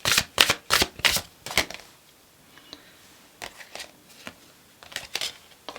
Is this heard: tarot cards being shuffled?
yes